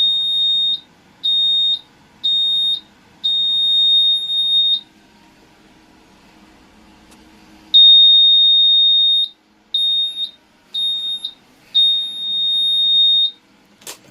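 A car's alarm, set off by a mismatched ECU or keyless receiver, sounds as loud high-pitched electronic beeps in rhythmic short and long bursts, pausing midway before repeating, with no voices.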